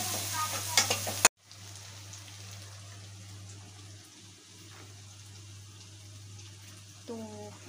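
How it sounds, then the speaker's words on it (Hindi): Egg curry fries and is stirred in a pan at home, a steady soft sizzle running on after a brief clatter at the start, with a short scrape near the end. "अब इसको अच्छे से भून लेंगे।"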